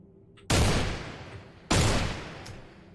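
Two loud, booming gunshots in the survival video game Cataclysm DDA, fired about a second apart in a dark area, each blast trailing off in a long rumbling echo with no talking.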